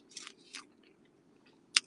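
A last small bite of taco is chewed close to the microphone, with a few soft, wet crunches spaced apart and a sharper bite near the end against a quiet background.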